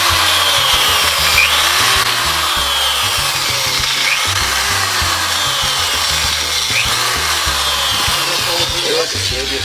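A power tool grinds through wood while cutting out the centre of a wooden ring, giving a loud, continuous rasping whine with wavering pitch, close up, held for several seconds.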